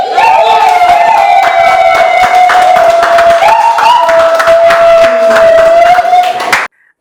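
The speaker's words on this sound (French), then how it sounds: "Après des youyous et des applaudissements" Audience at a university thesis defense ceremony in Cameroon applauds, with a sustained high ululating tone running through the clapping for several seconds before it cuts off abruptly near the end.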